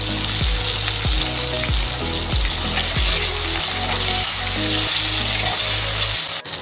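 Slit green chillies sizzle loudly in hot oil in a pan of cooked-down tomato for bhetki fish curry, a steady frying hiss with repeated low thumps of stirring throughout.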